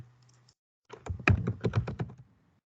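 A short burst of quick keystrokes on a computer keyboard while data is entered, about a dozen close, crisp taps after a faint hum, with no talking.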